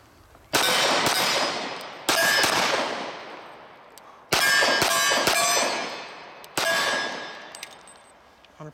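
Four sharp, ringing shots from a Dan Wesson Vigil CCO 1911 pistol in .45 ACP, fired at targets in loud, evenly spaced bursts, some with quick follow-ups, each trailing off in a metallic echo.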